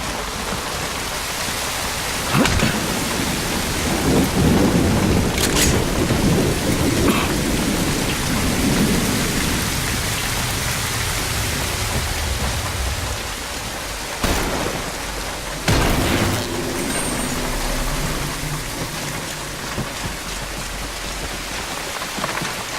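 Heavy pouring rain with rolling thunder claps in The Bureau: XCOM Declassified, a steady loud downpour broken by several sharp cracks and booms of thunder, with no voices.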